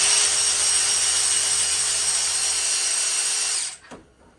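An old DeWalt power tool runs at a steady high-pitched whine while being broken in on work for new cylinder heads on a 6.5L diesel, then cuts off abruptly and spins down to near silence.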